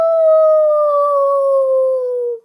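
A person imitates a wolf howl with one loud, smooth, sustained vocal tone that slowly drops in pitch before cutting off.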